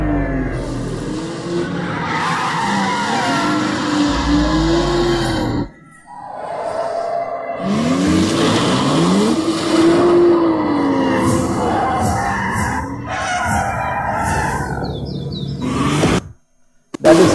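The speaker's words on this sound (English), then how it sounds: "Now that is skidding on a car" A car skids through a turn, its tires squealing in long wavering screeches over engine roar, loud and close, with a brief break and a crowd-like wash beneath.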